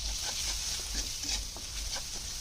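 Duck meat with spices, turmeric, bay leaf and ginger-garlic paste being stirred in a pan, a steady sizzle with soft repeated scraping of a spoon, close and continuous.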